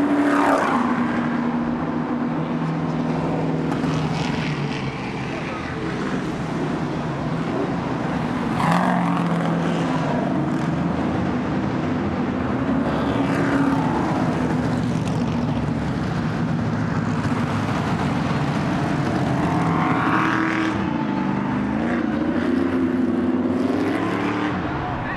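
Race cars do donuts on the Long Beach racetrack, and engine roar fills the air with rising and falling revs and sweeping tire howls, heard at a moderate distance over steady crowd and ambient noise.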